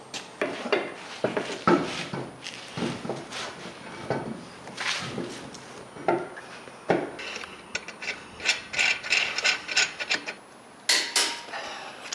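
A ratchet with a 22mm socket tightens the lug nuts on a lifted Jeep JL Wrangler wheel, giving repeated close clicking strokes in irregular bursts with short pauses.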